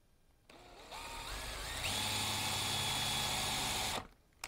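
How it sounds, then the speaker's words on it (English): A power drill whirs up to speed and holds a steady high whine for a few seconds, close by, drilling holes into a painting frame, then stops abruptly. "So now I'm going to drill my holes."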